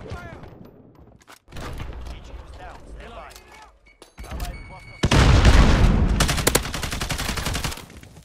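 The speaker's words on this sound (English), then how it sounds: "I don't know where the hell he's shooting me from, man." Gunfire in a Modern Warfare match: scattered single shots and short bursts give way to a loud, sustained stretch of rapid automatic fire with booming impacts, with a player talking over the action.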